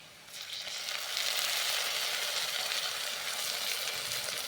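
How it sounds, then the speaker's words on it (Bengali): Ginger-garlic paste frying with browned onions in a pan, giving a steady, close, bright sizzle that swells slightly after the first second and holds evenly, with no voices. "পেঁয়াজ আবার একটু লাল লাল করে ভাজা হয়ে গেছে, ওর মধ্যে আমি আদা রসুন পেস্টটা দিয়ে দেব।"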